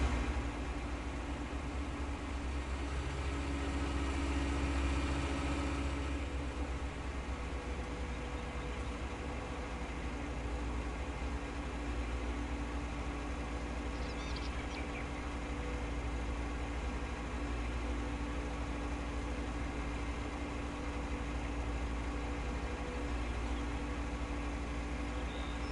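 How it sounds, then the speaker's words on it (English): A tractor engine in Farming Simulator 19 idles in a steady, unbroken low drone with a constant rumbling hum that holds for the whole stretch with no other sounds. "Now that sounds more like a tractor."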